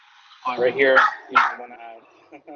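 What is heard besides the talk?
dog barking in the background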